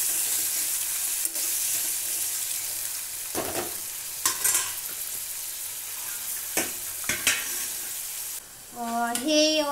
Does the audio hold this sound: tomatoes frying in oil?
yes